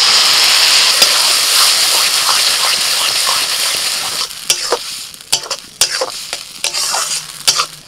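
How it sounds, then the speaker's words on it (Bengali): Onions and nigella seeds hiss loudly in hot oil before ground ridge gourd paste goes in, the sizzle quickly dropping to a softer bubbling as a spatula scrapes and stirs in irregular strokes. "পেঁয়াজগুলো ভেজে নিয়ে এবার দিয়ে দিচ্ছি ঝিঙে বাটা।"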